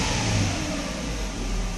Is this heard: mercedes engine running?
yes